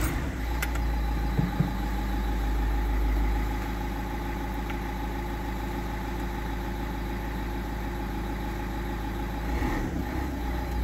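A warm Dacia Duster engine with a lit engine warning light and a suspected faulty injector idles steadily, a loud, close, continuous low hum with a few faint clicks and no talking.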